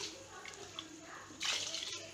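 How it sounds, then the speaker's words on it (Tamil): Water is poured into a pan of paneer gravy with beans and carrots, giving a soft trickling splash that swells into a louder pour about two-thirds of the way through. "இப்போ வந்து தண்ணி ஊற்றிக்கலாம்."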